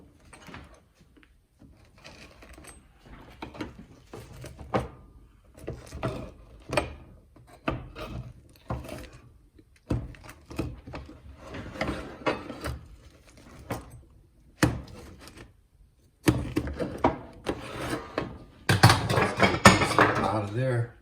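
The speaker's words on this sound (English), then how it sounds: "I use the Alaskan ulu to slice it and enjoy." An Alaskan ulu knife slicing food on a board, giving repeated sharp knocks and scraping taps in an irregular rhythm, close by, with a voice talking now and then between the cuts.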